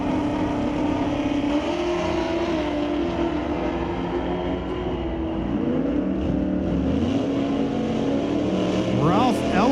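Drag race launch at Mission Raceway Park between a 1965 Chevy and a 1991 Ford Mustang, engines droning loudly and steadily, with a rising whine near the end, under continuous announcer talk.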